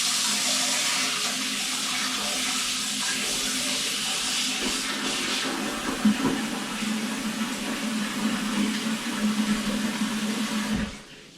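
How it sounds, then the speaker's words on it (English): Tap water runs steadily into a mixing bowl for rinsing out flour, a loud continuous rushing splash that shifts slightly in tone midway and cuts off abruptly near the end. "By filling the bowl with water, it ensures that the flour that's in there doesn't stick"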